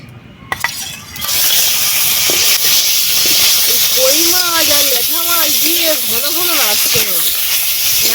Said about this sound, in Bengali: এবারে মাছগুলো ভাজবো